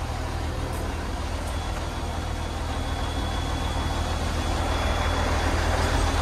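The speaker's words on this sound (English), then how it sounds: "Start up the Jockey, the truck, the dog, whatever you wanna call it." The diesel engine of a yard truck, or jockey, used for moving 53 ft trailers runs with a steady, loud, low rumble. The heavy idle continues without a break throughout.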